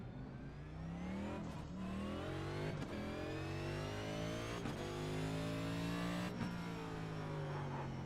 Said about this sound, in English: See, I'm standing on my brakes right now to get it to slow down.